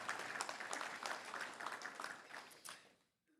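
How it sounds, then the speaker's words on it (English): An audience at a Little Rock Touchdown Club luncheon applauds its sponsors, a full, dense round of clapping that holds steady and then quickly fades to near silence at the end. "Let's give a round of applause to all of our great sponsors."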